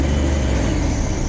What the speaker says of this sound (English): that is the sound of a V8 engine